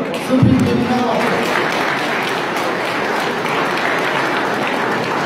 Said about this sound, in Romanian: Să-i aplaudăm, sunt printre dumneavoastră.